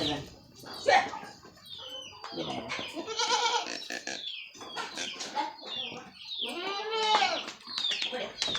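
Goats and young kids on a farm bleat repeatedly at close range, with clucking chickens mixed in and people talking intermittently among the animal calls.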